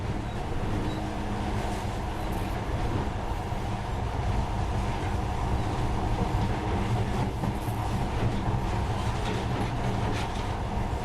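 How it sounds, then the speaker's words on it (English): A monorail train ride in the video game Metro Last Light, a steady loud rumbling rail drone with faint rhythmic clacking and mechanical hum throughout, no talking. "In the past, trains were ordinary things, but now, this monorail seems magic, doesn't it?"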